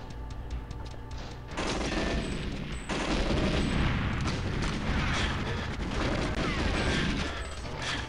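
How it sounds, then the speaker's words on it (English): Loud, sustained blast and gunfire-like roar in the GoldenEye 007 custom level Caucasus, dense and continuous for several seconds after a quieter start, with no talk over it. "Okay, got pushed into an explosion."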